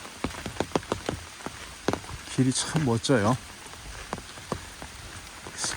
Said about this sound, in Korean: 사실은 이렇게 빗소리가요,